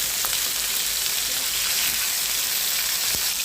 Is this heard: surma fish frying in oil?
yes